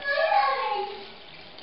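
Cold water is poured onto 260 grams of rice in a container for microwave cooking. The pour is close and fairly loud, its pitch sliding as the vessel fills, then it briefly stops before a short final splash.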